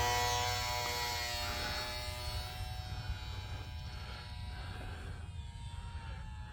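A HobbyZone Sport Cub electric RC plane runs at full throttle, giving a steady high-pitched motor whine with clear tonal buzz that slowly fades as it moves away.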